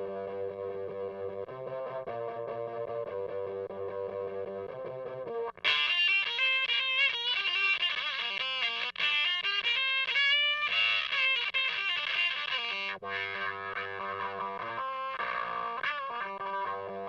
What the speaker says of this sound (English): it's a harsh, bitey, aggressive fuzz sound